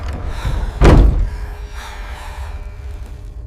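Heavy door slamming shut as a horror-story sound effect, a single loud booming thud followed by a dark rumbling ambience that slowly fades.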